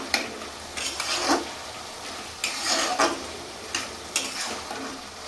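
Prawns tipped into a pan of boiled bottle gourd for a Bengali lau chingri, giving a few short bursts of sizzling and stirring clatter spaced across a few seconds, fairly close and moderately loud with no talking.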